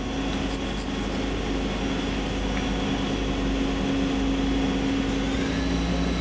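A Hardinge CHNC-III CNC lathe spindle running at 3000 RPM, a steady loud mechanical hum with a sustained tonal whine, unchanging and continuous throughout with no voices.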